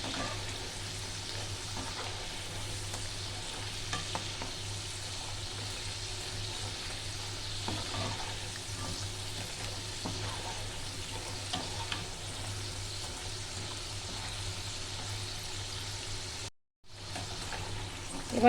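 Homemade french fries bubble and crackle in hot oil while being stirred now and then, with a steady close sizzle running throughout, a brief drop to silence near the end, and no talking.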